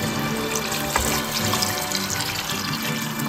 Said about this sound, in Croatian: Evo sada zalijemo vodom.